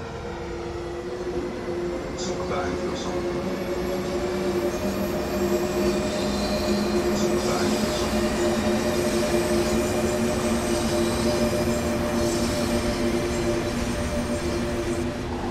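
A train on the Main-Spessart line departs in the video game Train Sim World, a steady low engine drone with humming tones building gently and continuously.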